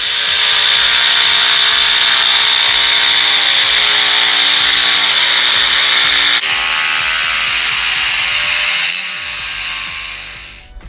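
A power saw cutting the curved design out of a wooden bench leg for a shoe storage bench, a loud steady high whine held close for about ten seconds, shifting pitch once or twice before winding down.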